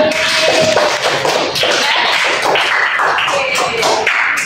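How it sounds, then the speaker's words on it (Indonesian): Students in a classroom clap for their presentation, a loud, dense, continuous burst of hand claps and taps that fills the room throughout. "kita ulangi tepuk tangan untuk kita semua"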